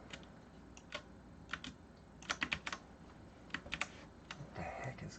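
Computer keyboard keys are pressed in short irregular bursts of clicks, some single taps and some quick clusters, fairly close and moderately loud against a quiet room background, with no talk.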